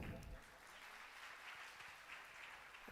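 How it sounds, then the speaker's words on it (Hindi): Devotees clapping at a spiritual talk on devotion, a continuous soft wash of crowd applause, distant and fairly quiet throughout. "भक्त भागवत की जोरदार तालियां।"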